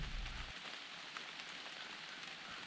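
Steady rain falling outdoors on an opening morning of youth rifle season in Missouri, a dense, even patter of drops with a brief low rumble at the start and no talking.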